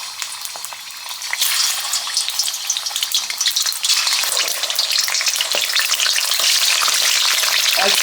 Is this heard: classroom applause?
no